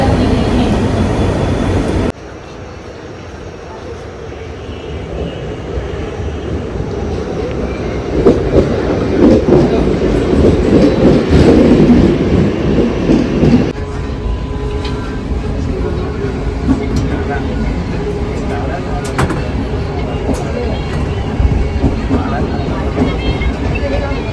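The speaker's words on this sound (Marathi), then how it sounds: "थोड्या वेळातच येईल ट्रेन" Steady rumbling of an arriving train with rhythmic clattering and rising wheel noise, loud and close, with people talking faintly in the background.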